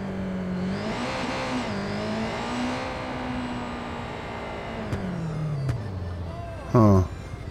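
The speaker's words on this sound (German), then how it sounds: "Ich fahre mal mit dem Motorrad weiter." A motorcycle in the video game Watch Dogs 2 rides along, its engine tone rising and holding steady, then winding down, with a short sharp bump near the end and a voice talking over the engine.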